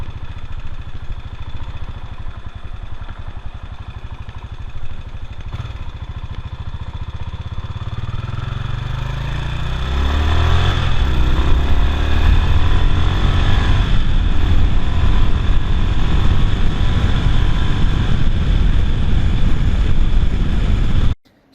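A Honda XBR500 single-cylinder motorcycle idles with a low, thumping throb, then revs up and holds a louder, rougher engine note for several seconds before cutting off abruptly at the end.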